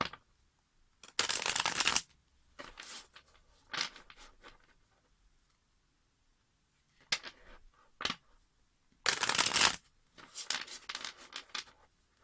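Cards being riffle-shuffled in several quick bursts, with softer handling and tapping of the deck between them, close and quiet.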